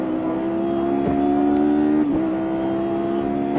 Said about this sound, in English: of Ellen Lohr, Mantei breezes past.